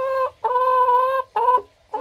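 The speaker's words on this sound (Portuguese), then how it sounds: "é as minhas galinhas. Olha, ó." Backyard hens give loud, drawn-out clucking calls nearby, three long tonal bursts separated by brief pauses, heard on their own without talk.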